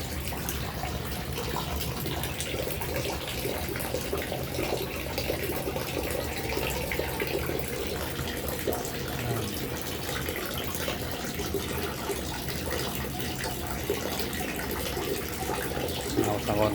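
Water drains from a fishpond on a third floor, a steady broadband rushing and trickling that runs continuously at an even level, with muffled voices murmuring underneath at times.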